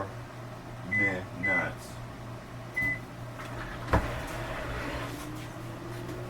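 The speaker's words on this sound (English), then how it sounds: "Into the microwave. I get a power level 9 for 4" Kitchen microwave oven set to power level 9, beeping a few times as it is programmed and then humming steadily, with a knock partway through and a voice speaking briefly.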